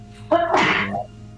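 One loud, close sneeze with a short sharp intake followed by a bursting exhale, standing alone against a quiet background.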